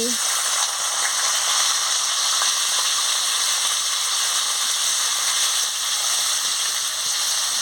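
Chopped onions go into hot oil in a wok for a potato curry and fry with a loud, steady hiss and sizzle that stays even and close throughout.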